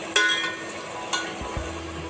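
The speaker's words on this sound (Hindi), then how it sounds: "इसमें अब हम मैरिनेट चिकन डालेंगे। देखिए इसको हम आराम आराम से पकाते रहेंगे।" Marinated chicken frying in a pot for chicken biryani, a soft steady sizzle broken by a couple of sharp utensil clinks and low scraping bumps, no talking.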